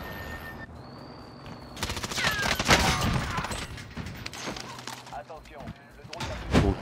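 Rapid bursts of video game gunfire from a new weapon, a loud rattling fusillade with sharp shots and shattering impacts, fading then returning in a final close burst, with someone talking between volleys.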